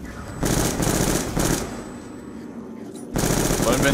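Rapid automatic gunfire in Call of Duty: Black Ops II Zombies mode rattles in several bursts with short gaps between, loud and sharp, the game's quieter background hum in the pauses.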